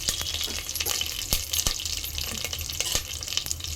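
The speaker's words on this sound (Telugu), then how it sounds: "ఆవాలు సిట్పట్ అవుతుంది కదండి. ఇప్పుడైతే కరింపాకు వేస్తాను" Curry leaves hit hot oil with spluttering mustard seeds for a village-style chicken curry, a dense steady sizzle with scattered sharp pops and crackles throughout, close and fairly loud, no talk.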